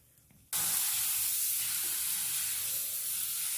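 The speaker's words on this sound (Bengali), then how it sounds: "দেখো খুন্তি ছাড়া গরম তেলে পাঁপড় ভেজে নিচ্ছি।" Papad drops into hot oil already used for frying pithe, with no spatula in use. A sudden loud, steady sizzling hiss starts after a brief quiet moment and continues close up without a break.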